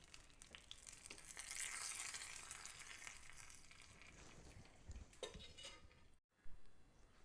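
Bottle gourd kootu is mixed in a pan with a seasoning of asafoetida and chilli, giving soft scraping and clinking stirs over a faint sizzle, all at low volume.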